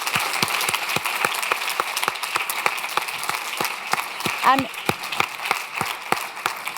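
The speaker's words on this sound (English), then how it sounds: "We can give him a round of applause." A crowd at an awards ceremony applauds steadily with dense, sustained clapping; a voice briefly speaks partway through.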